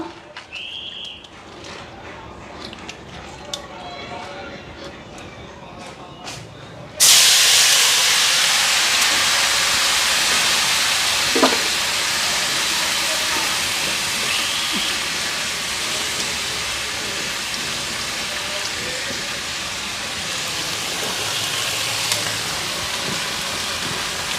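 Vegetables sizzle in hot oil, a steady broad hiss that jumps sharply louder partway through as the batch is added and then holds level, with faint background sounds from the surroundings.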